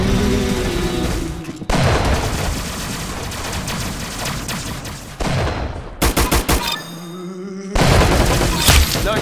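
Loud, dense gunfire in the Roblox game Arenal, with rapid bursts and heavy booms broken by brief gaps, then short staccato shots and a final burst.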